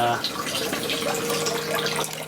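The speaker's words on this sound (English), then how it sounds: "I just got it like kind of a trickling into the bucket so the bucket never runs dry" Water trickles steadily into a bucket, a continuous close splashing and dribbling for a couple of seconds with no talk over it.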